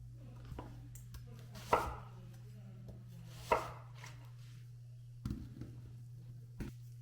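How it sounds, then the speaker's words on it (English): A knife chopping vegetables on a board during meal prep, a few sharp separate knocks spaced out over a low steady background hum. "Just giving everything a little chop."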